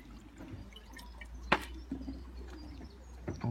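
Racing pigeons returned to the loft, with soft low coos and scattered light calls under quiet room noise and a sharp clatter partway through.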